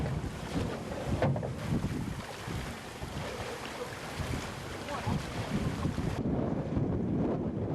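Strong wind roars and buffets the microphone steadily for several seconds on a Black Sea shore, with a rushing, gusty outdoor noise throughout.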